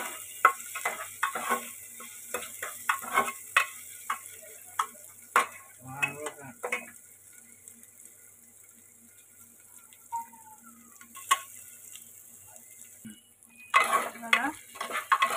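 Two medium onions frying in a pan for soybean bhaji, with repeated sharp scraping and tapping stirring strokes over a low sizzle, quieter stretches in between and a busier burst near the end.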